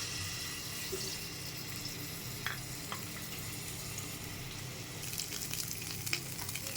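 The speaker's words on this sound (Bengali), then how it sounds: "পেঁয়াজ রসুন আদা ভাজা হয়ে গেছে" Onion, garlic and ginger sizzle in a tablespoon of hot oil in a wok, a steady, dense frying hiss that runs throughout with a few faint clinks near the end.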